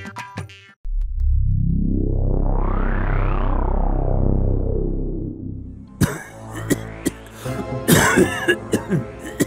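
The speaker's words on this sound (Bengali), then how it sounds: "কাশিটা একটু বেশি হয়ে গেছে" A cartoon king coughs in a few harsh, bursting fits near the end, following a long swooping synthetic sound effect that rises and falls in pitch.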